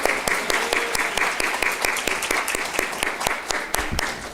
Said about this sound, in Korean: 우리 박수로 격려합시다